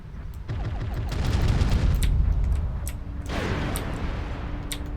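Missile fire and impacts in MechWarrior, a dense burst of rapid launches and blasts swelling to a loud rumble, then a second volley of sharp cracks and booms, with no talk.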